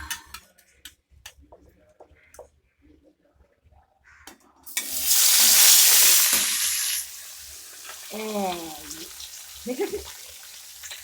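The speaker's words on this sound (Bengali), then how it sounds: "চলো এখন একটা একটা করে মাছ কড়াইতে ছাড়ি" Faint clinks and taps, then a loud burst of sizzling as fish is dropped into hot oil in a wok, easing into a steady frying hiss while a voice speaks briefly.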